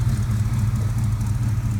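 A brand-new pickup truck's engine idles in a steady, low, even rumble, close by and alone for under two seconds.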